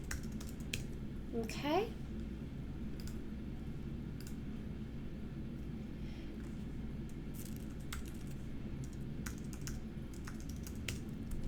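Computer keyboard typing as account information is entered online, steady light key clicks running through the clip under a brief spoken word and low room noise.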